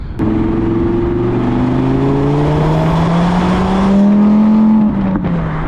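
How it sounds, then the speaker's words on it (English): A warmed-up 2024 Audi R8 with a 570-horsepower rear-drive engine revs up smoothly toward about 4,000 RPM, its loud, close tone climbing steadily, then dropping off sharply near the end. "The engine has warmed up a bit, so we can give a little throttle listen"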